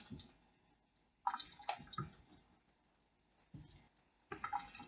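Water from a kitchen tap runs in short bursts as dishes are rinsed, quiet and intermittent, with clinks and gaps of near silence between the splashes.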